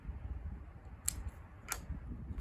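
Two crisp snips of scissors cutting through a rooted plant cutting's stem, spaced about half a second apart, fairly faint over a low background hum, with no talking.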